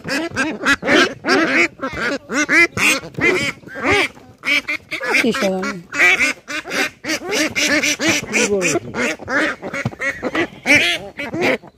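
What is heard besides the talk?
ducks quacking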